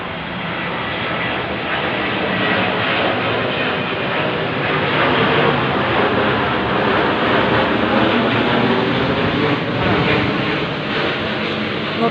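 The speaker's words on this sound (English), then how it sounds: "See the plane over my head?" An airplane passes directly overhead late in the evening, a loud, steady engine roar that holds strong and broad throughout, rising slightly in the middle and easing toward the end.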